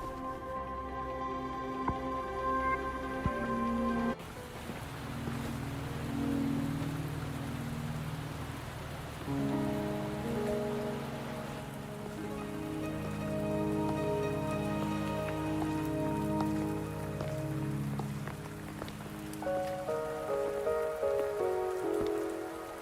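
Steady rain patters on a surface in the video game Wuthering Waves, joined throughout by soft sustained musical tones.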